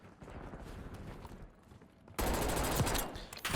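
Rapid gunfire from Black Ops 6, a KSV submachine gun loadout, at first subdued under game ambience, then bursting into loud sustained automatic fire for the final second and a half.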